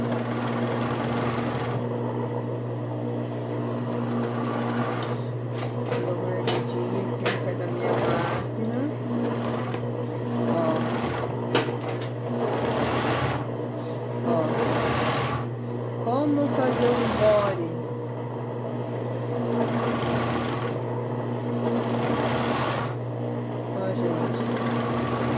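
A sewing machine stitches a side seam of a children's garment with a steady low mechanical hum and occasional faster bursts, while a second machine keeps running. A voice talks intermittently throughout.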